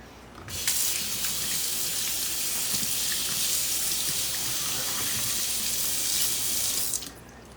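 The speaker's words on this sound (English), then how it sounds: "I'm gonna rinse my fingers for a second." A kitchen tap runs steadily while fingers are rinsed under it, a loud, even rush of water that starts abruptly and stops just before the end.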